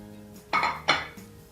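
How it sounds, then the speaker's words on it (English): Seasoned shrimp flipped off a plate into a hot saucepan: two sharp clattering knocks of dish and pan a moment apart, close and fairly loud, followed by a softer tap. "you put the shrimp on a plate and you flip it over right onto the saucepan like so"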